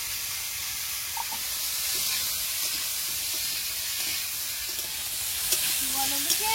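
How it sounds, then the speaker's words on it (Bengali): Vegetables, papaya and potato with salt and turmeric, sizzling steadily in a pan over a village cooking fire, a constant hiss with occasional light scrapes of stirring, no talk. "অন্যদিকে সবজিটা ভাজা হয়েছে"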